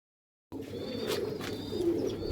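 Domestic pigeons kept by a rooftop pigeon fancier, cooing softly after a half-second of silence, with a low steady murmur and brief sharper calls over a constant background hum.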